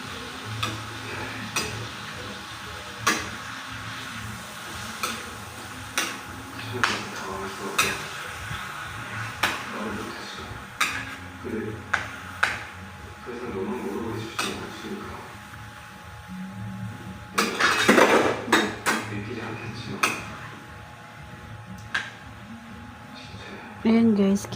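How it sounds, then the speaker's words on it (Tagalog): Adobo sautés in a pan with garlic and onion while being flipped, soft sizzling broken by repeated sharp ticks and clinks of utensil on pan, with a brief louder scrape burst midway and a person talking throughout. "Habang ginigisa natin siya sa bawang sibuyas. Yan. Binabaliktad ko na siya guys."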